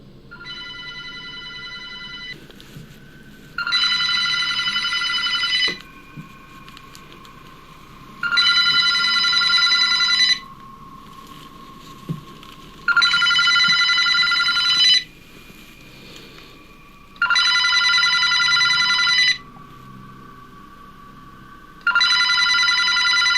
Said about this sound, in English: another phone begins to ring.